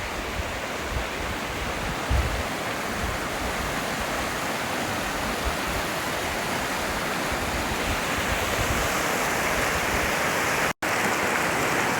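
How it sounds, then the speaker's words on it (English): River water rushing at a hiking river crossing, a loud, steady broadband roar that continues unbroken apart from a momentary dropout near the end. "Time to cross the river."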